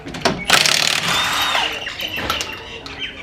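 Loud bursts of a Milwaukee power ratchet rattling and whirring up close while removing a wheel from a Toyota MR2 SW20, interspersed with metallic clicks and the squeal of a nut loosening.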